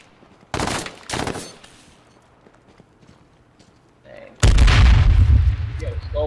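Gunfire in the battle royale game H1Z1 on PS4: two short sharp shots near the start, then a loud sustained burst of firing and booming that fills the last two seconds.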